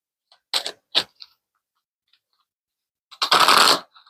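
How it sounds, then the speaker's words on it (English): Tarot cards shuffled by hand at close range: a few quick papery riffles early on, then a pause, then a longer, denser burst of shuffling near the end. "I'll shuffle for the next card."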